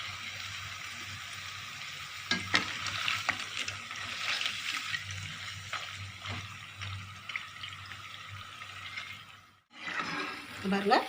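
Ribbon pakoda sizzles in hot oil with a steady, fairly soft bubbling hiss and a few stirring knocks, interrupted briefly before the frying resumes.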